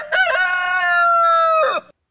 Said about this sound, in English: It is a sound of a rooster.